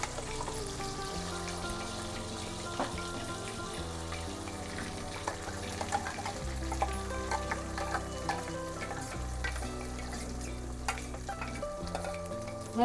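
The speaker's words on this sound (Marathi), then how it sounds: "चला तर मग पेस्ट परतून घेऊया आपण" Masala paste for a chicken kaju masala gravy stir-fried in oil over a high flame, giving a continuous close sizzle with steady stirring and scraping throughout, over a low tonal hum.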